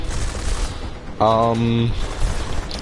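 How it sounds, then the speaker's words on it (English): A flashbang grenade goes off in a video game: a sharp blast with a brief ringing tonal whine after it, set amid scattered gunfire and other game noise. "No, that was a flashbang."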